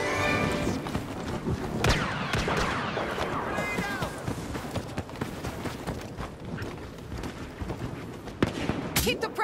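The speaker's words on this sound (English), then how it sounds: "Blasters fire!" Blasters fire in a rapid volley of sharp zapping shots with sweeping, pitch-bending tones, mixed with bursts of clatter and voices in a busy, chaotic scene.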